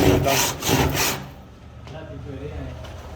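A hand saw rasps through wood in rapid back-and-forth strokes, loud at first, then trailing off into quieter scraping and faint background sounds.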